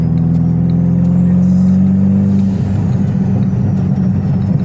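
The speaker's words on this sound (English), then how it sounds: "that's anti-lag. Here it's spooling the turbo." A Subaru Impreza WRX Prodrive idles loudly nearby with a steady low drone, then shifts into a rough, crackling burble as the anti-lag system keeps the turbo spooled, with no talking.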